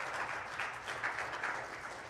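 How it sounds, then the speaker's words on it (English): A church congregation gives a short round of applause, a soft, even patter of many hands clapping at a distance, faint and steady with no voices over it. "round of applause for them first"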